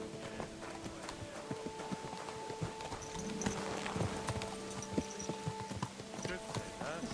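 Horse hooves clip-clopping in Kingdom Come: Deliverance II, a steady run of hoofbeats with tack and ambient game sounds, moderately close with a faint whinny-like tone, no talk over it.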